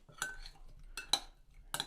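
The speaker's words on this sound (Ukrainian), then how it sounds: "Все перемішуємо" A spoon clinks and scrapes against a bowl in a few quick bursts of stirring broccoli with olive oil and salt, with short quiet gaps between strokes.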